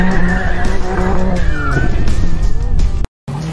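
A car drifting through a slide, its tires squealing in a long rising and falling screech over a steady engine roar, loud and close, cutting off abruptly near the end.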